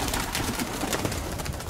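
Fighting pigeons at a breeder's loft coo in soft repeated throaty bursts, close to the microphone, over steady broadband background noise with no talk.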